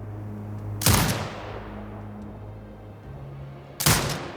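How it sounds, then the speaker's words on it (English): Two heavy turret shots in the video game Sniper Ghost Warrior Contracts 2, each a sharp loud blast with a decaying tail, spaced about three seconds apart over a low droning background hum. "Exit binocular mode and command the turret to fire."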